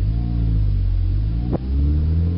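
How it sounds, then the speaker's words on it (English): A manual transmission car idles and runs with a low, steady engine rumble, then a sudden brief break in the drone marks an instant gear change before the engine note resumes. "what you want to hear is an instant change in the transmission"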